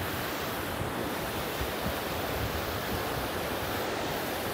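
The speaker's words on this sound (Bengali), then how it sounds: "কি চমৎকার বাতাস।" Steady sea wind blows along an ocean shore, a broad, even rushing hiss with the soft wash of surf beneath it, constant and close with no voices.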